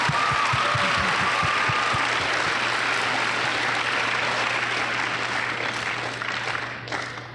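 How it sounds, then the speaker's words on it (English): Audience applause at an Alaska fall 2013 opening ceremony in Juneau: a dense, steady wash of clapping that holds for several seconds, then thins and tapers toward the end over a faint low hum. "let's applaud that"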